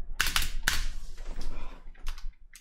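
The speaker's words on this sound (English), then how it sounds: "Sorry if my keyboard is too loud." Loud computer keyboard typing during a Fortnite match, with sharp clacking keystrokes in quick irregular bursts, close and dominant, with no speech.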